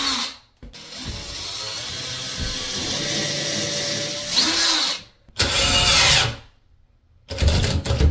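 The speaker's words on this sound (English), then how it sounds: "now Johnny is going to drill a slight pilot hole" Power drill boring a small pilot hole into a bathroom wall for mirror screws, with a sustained whirring buzz across most of the stretch, then two short, louder bursts of drilling after brief pauses.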